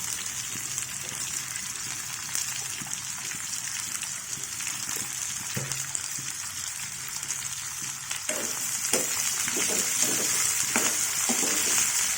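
Ivy gourd and curry leaves frying in oil in a pan, a loud steady close sizzle with intermittent stirring scrapes that swells a little in the last few seconds, no speech.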